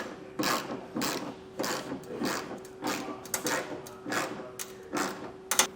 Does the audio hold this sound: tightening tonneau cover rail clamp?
yes